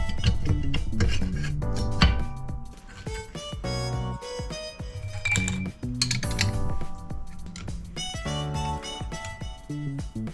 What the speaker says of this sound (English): Now I'm putting on